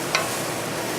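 Onions sweating over moderate heat in a pan for crab and vegetable chowder, a brief close-up burst of constant sizzle with one small tap near the start.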